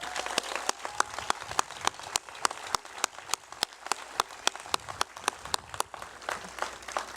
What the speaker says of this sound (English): A big round of applause to our faculty